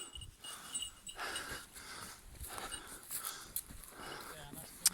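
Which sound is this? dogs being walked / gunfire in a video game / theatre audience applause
dogs being walked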